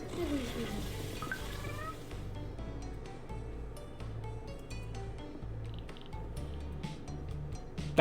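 Cats meowing in the cat café management game Cat Cafe Manager, a few short mews over a looping background music bed with soft dripping and squishy game effects.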